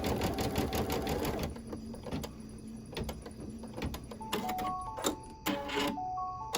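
An embroidery machine stitches a Halloween quilt block. Its rapid mechanical needle chatter runs steadily and close, with higher whirring and beeping tones toward the end.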